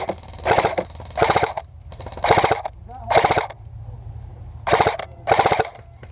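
Airsoft gunfire during a team deathmatch at an outdoor field: loud, close bursts of rapid shots repeating in short volleys with brief pauses between.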